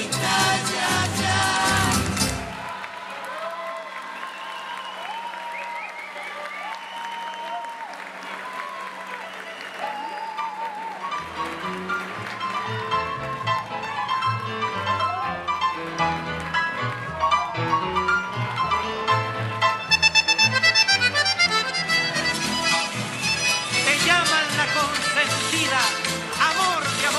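An audience claps after a seventh-grade school class's Chilean folklore performance. A short loud burst of applause is followed by a long stretch of music, with clapping rising again later.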